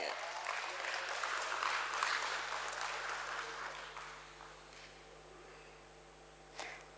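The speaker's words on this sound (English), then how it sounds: "Can we all clap, ladies and gentlemen?" Crowd of attendees clapping at a stock exchange bell-ringing ceremony, a dense wash of applause that fades gradually over several seconds, ending with a sharp isolated sound.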